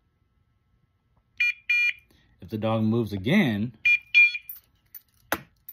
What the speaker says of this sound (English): mode 2 will only beep if the dog stops